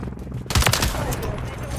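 Rapid gunfire rattles in a video game, a dense close burst of shots layered over continuous game noise, loud and sustained for a couple of seconds.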